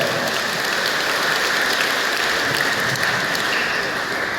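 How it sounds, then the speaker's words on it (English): An audience at a church anniversary celebration at a Carmelite monastery gives a warm round of applause, dense and steady clapping that fills the room without a break. "Let's give him a warm round of applause"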